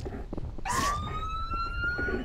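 A cartoon police car siren wails nearby, rising sharply then holding a steady tone, loud over a rumbling engine and road noise.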